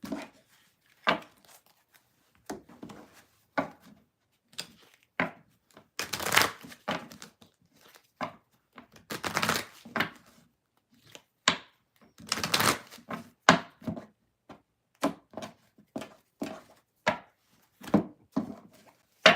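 Repeated riffling and tapping of a tarot card deck being shuffled, uneven bursts spread throughout, close by, with no voices.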